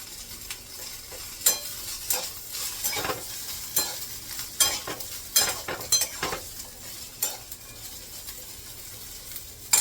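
Sesame seeds and coriander dry roasting in a pan over a low gas flame, with a soft continuous crackle and repeated scraping stirs at an irregular rhythm, close by and with no talking.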